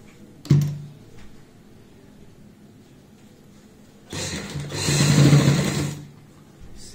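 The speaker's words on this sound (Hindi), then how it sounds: "सिलाई के ऊपर सिलाई लगाएंगे" A sewing machine stitches a pocket on a handmade travel bag in two short bursts, one quick clunk near the start and a louder run of a second or two later, with quiet handling between.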